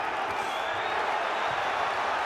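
Arena crowd at the Billy Joe Saunders vs Willie Monroe Jr. boxing fight, a dense, steady roar of many voices responding to the action, loud and continuous with no breaks.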